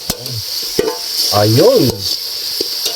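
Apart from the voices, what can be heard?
sautéing pork in a pan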